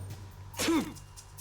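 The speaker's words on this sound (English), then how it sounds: "Oh, bless you, Snake." Solid Snake lets out a single sharp sneeze in Metal Gear Solid 2, a brief burst rising out of quiet game background noise with a low hum underneath.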